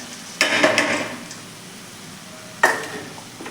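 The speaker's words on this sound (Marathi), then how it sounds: "त्यामध्ये आपण हे मसूर स्वच्छ धुवून घेतलेले आहेत ते घालून घेऊयात" Washed whole masoor lentils hit fried masala in a hot pan, making two separate bursts of crackling sizzle with light stirring clatter that fade between additions.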